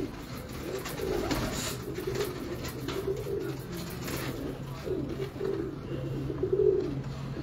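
Pure Shah pigeons coo in a steady, overlapping chorus of low throaty calls close by, continuing throughout with a faint murmur of voices in the background.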